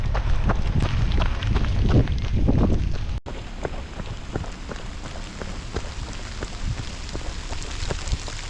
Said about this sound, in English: Thunder, and it's raining.